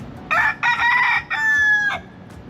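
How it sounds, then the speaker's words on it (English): A rooster among the free-roaming street chickens of Ybor City, Florida crows once, loud and close, in three broken bursts, ending on a long drawn-out note against quiet outdoor background. "One of the first things you notice about Ybor City is that there are lots of chickens."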